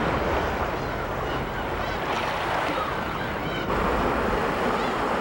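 Sea waves wash against rocky coastal shoreline, a continuous loud rushing surge with wind noise over the microphone and a brief swell of spray near the end.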